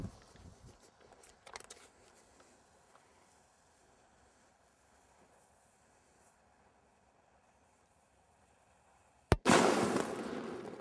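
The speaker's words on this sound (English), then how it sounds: "Let's explode some fruitcake." Quiet faint rustling gives way to a single sharp, loud blast as a fruitcake is blown up with an implanted explosive device, followed by a roaring, crackling burst that fades briefly.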